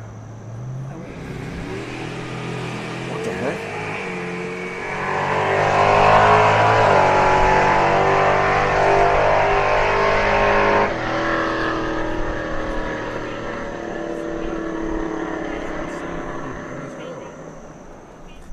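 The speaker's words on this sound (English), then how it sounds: "we kept hearing a car like racing or something" A car engine racing and revving nearby at night, a sustained loud roar that swells midway and stays steady, with people talking over it.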